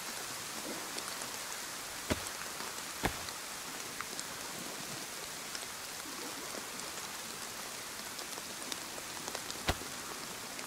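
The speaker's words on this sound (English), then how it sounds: "I think it's only temporary, this rain." Steady rain falling in the survival video game DayZ, a constant dense hiss of drops on surfaces with a few sharper isolated drips, no voices over it.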